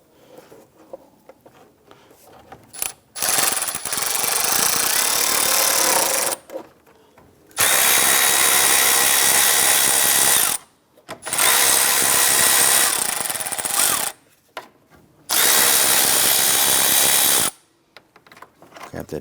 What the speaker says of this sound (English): Remove the 4 10mm bolts securing our 2 fans in place.